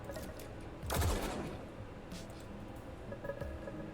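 One sharp burst of weapon fire in the game Echoes, a Lucid9 fangame, loud and close, followed by quieter scattered impacts and a faint ambient hum.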